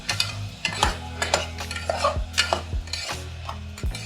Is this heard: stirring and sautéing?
yes